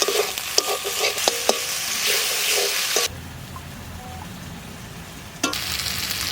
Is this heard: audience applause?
no